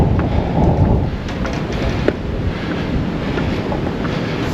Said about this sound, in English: You will hear the wind up here.